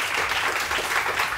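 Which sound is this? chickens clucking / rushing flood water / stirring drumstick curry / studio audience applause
studio audience applause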